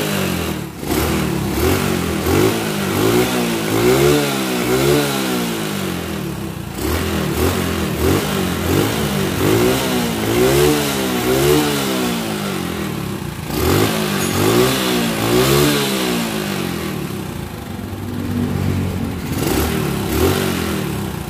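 A motorcycle engine starts and is revved repeatedly, each throttle blip climbing and falling back to idle in a regular cycle, loud and close throughout.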